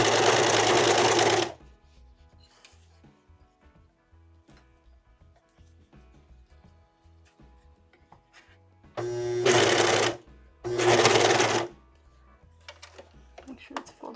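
A sewing machine stitches slowly through a thick seam in a hooded shirt, with a short run at the start and two more runs near the end, close and steady, separated by quiet handling noises.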